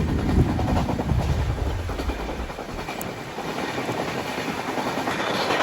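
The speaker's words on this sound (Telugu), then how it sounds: "మన బండి లోకల్ బండిని ఓవర్టేక్ కొడుతుంది." An Udaipur–Mumbai Superfast Express overtaking a local train, heard from on board: a loud, continuous rail rumble with rushing wheel noise and a low roar that fades slightly, with no voices.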